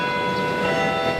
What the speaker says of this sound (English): The Manila Cathedral's church bells ring